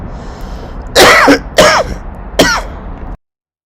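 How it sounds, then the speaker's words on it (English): Three rough throat clears come from a person bothered by the cold, loud and close, each a short rasping burst spaced about a second apart, followed by silence. "the cold is making me cough."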